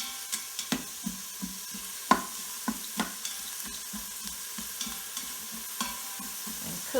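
Onions and celery sauté in a pot with a soft background sizzle, broken by repeated scraping knocks of a spoon stirring them around at an uneven pace.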